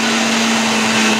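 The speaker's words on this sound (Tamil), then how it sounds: "நம்ம எல்லாத்தையும் சேர்த்து இந்த மாதிரி மிக்சியில் அரைச்சாச்சு" A mixer grinder whirs loud and steady while blending sponge cake batter, a continuous high motor drone with a stable pitch and no pauses.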